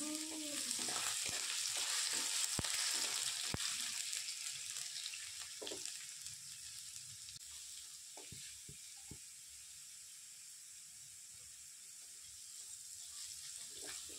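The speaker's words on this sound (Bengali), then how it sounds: "এবার আমি দিয়ে দিলাম আলু। আলু একটু নাড়িয়ে চাড়িয়ে দিয়ে দেব পরিমাণ মতন লবণ।" Diced potatoes drop into hot oil with popping mustard seeds, giving a loud, steady sizzle with a few sharp clatters of stirring early on, then a quieter, continuous fry with light scrapes.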